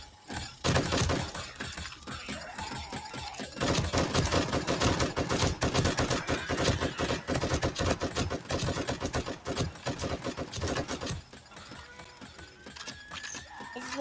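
Rapid gunfire in a shooter set in a snowy town comes in dense bursts of sharp cracks and clatters, sustained for several seconds before thinning to scattered shots, with no talk over it.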